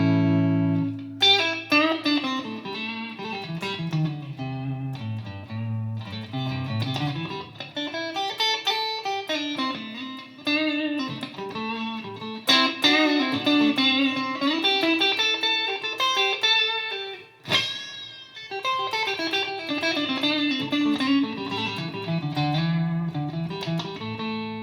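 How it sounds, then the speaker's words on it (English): A Fender Mustang GTX electric guitar on the neck pickup through a Twin Reverb amp plays a sustained, melodic passage of chords and single notes with reverb tails, alone and clean. "I'm using my Fender Mustang GTX as always. And we're going to start off on the neck pickup here with a twin reverb."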